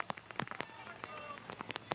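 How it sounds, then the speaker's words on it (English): Rain pattering down during a summer baseball game in Florida, Orlando Monarchs vs. Atlanta Smoke, heard as scattered faint drops and ticks over a low steady hiss. "And now the rain has come down."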